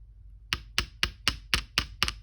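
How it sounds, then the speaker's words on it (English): A light hammer taps a metal chain link bracelet into shape with eight crisp, evenly spaced taps, close and clear against a quiet background. "As you can hear, they're just light little taps."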